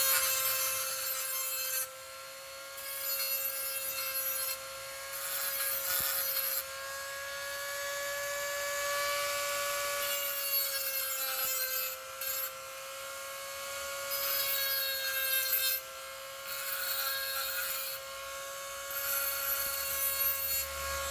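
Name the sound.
sanding corners of transformer laminations to remove burrs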